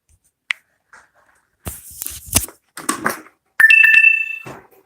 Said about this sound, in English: My phone's telling me it's going to die.